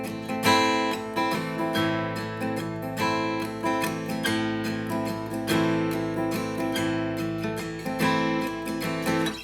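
Acoustic guitar strums chords in a waltz pattern counted in three, with an even, rocking back-and-forth rhythm of ringing strokes, loud and alone with no voice.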